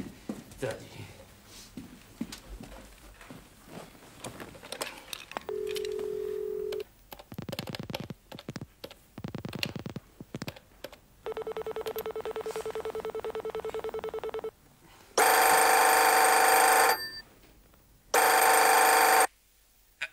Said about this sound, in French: en attendant, on va appeler Mathilde